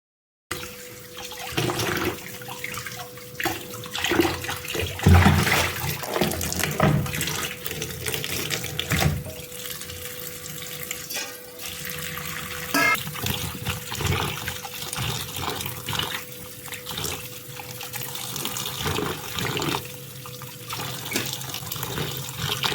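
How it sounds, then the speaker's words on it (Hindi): Bitter gourds are rinsed under a running kitchen tap, a steady hiss and splash of water filling and churning in a sink that continues throughout, with shifting surges as the vegetables are moved about. "मैंने 2-3 पानी से इसको वॉश कर लिया।"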